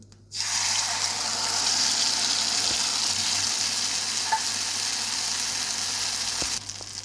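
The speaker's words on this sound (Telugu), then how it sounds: "ఆయిల్ వేడెక్కిన తర్వాత కొంచెం బిర్యానీ ఆకు అది వేసిన తర్వాత కొంచెం మనం మసాలా పేస్ట్ చేస్తాం కదా, ఆ మసాలా వేయాలి" Bay leaf and ground masala paste dropped into hot oil for a chana dal potato kurma, giving a loud, sudden sizzle that holds steady and close for several seconds before easing off at the end, with no talking.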